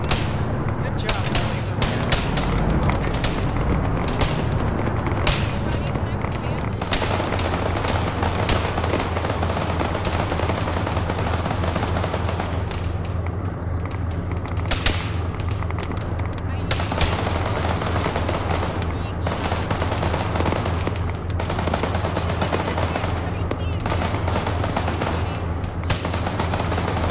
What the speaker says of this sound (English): Taking fire from the west southwest